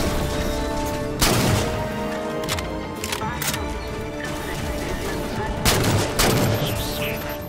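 Gunfire from a weapon in Halo 4 on Xbox One, sharp bursts of shots landing around the one- and six-second marks over a constant loud game soundscape, with no talk.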